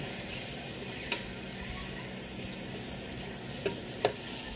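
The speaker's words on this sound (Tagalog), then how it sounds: "silipin po natin na ating i-stir fry na pork" Pork stir-frying in a pan for a Filipino pork steak, a steady close sizzle of hot oil with a few sharp crackles and pops standing out.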